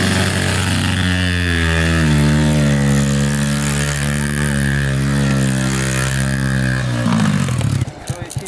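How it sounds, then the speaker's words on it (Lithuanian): A motorcycle engine runs loud and close at a steady drone with a strong low pulsing note, then the sound breaks into rough buffeting near the end. "Šiaip geras motociklas iš tikrųjų eina."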